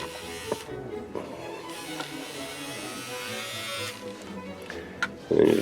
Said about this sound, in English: It's just like the bigger paint stirrers that you see at like Lowe's and Home Depot, but it's a miniaturized version for miniature paints